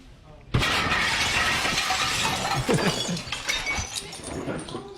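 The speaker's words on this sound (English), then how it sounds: "Driver smashes right through the window." A car crashes through a glass window with a sudden loud shattering burst, followed by scattered debris and clinking glass that tails off over a few seconds.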